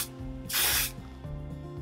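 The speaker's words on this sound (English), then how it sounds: "I'm gonna use a little bit more hairspray to kind of keep some of these ends together." A single short, close hiss of hairspray misted onto a sleek low bun, about half a second long, with faint background clatter before and after.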